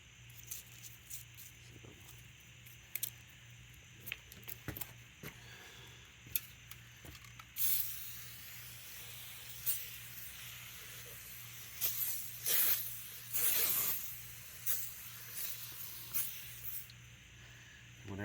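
Brake parts cleaner sprays in bursts onto a cast iron Mopar LA cylinder head, fluid running out of the intake valve seats and ports; intermittent hissing blasts grow louder and denser midway, over a steady low hum.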